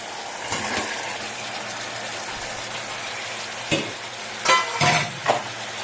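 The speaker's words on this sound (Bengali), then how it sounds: "ছেড়ে আসার পর এবার আমি এই মাছগুলো দিয়ে দিলাম।" Fish pieces dropped into hot oil for a kajli fish curry, giving a low steady sizzle with a few sharper scraping and splashing bursts toward the end, close up and without speech.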